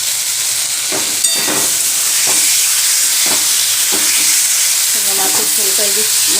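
Fish cooking in spice paste in a pan, a loud steady sizzle and hiss with scraping stirs of a spatula and a few clanks against the pan, no talk.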